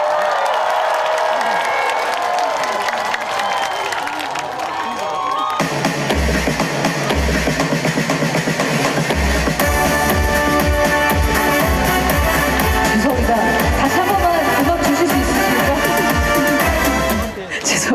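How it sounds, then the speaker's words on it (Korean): Concert crowd at an outdoor show in Ulju claps and cheers in a loud, sustained wash, with a thumping musical beat entering partway through and carrying on under the applause. "여러분들 정말 마지막으로 큰 박수와 함성이 필요합니다."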